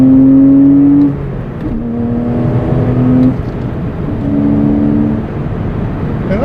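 A Porsche Cayman R with a six-speed gearbox accelerates: a loud exhaust note climbs in pitch, drops at each of two shifts, then climbs again, heard close from inside the car with no talking.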